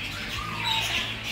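A pet Moluccan cockatoo gives a short, harsh squawk at close range, loud and alone.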